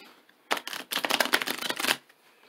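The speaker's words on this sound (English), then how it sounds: "One more shuffle." Tarot cards are shuffled by hand close up, giving a rapid, crisp flurry of clicking and flapping for about a second and a half before stopping.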